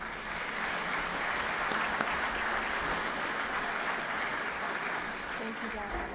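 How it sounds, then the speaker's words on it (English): Audience at a scholarship panel discussion applauding steadily for a speaker being brought to the stage, a dense, even wash of clapping throughout, loud and close, with faint voices mixed in. "Everyone give her a round of applause."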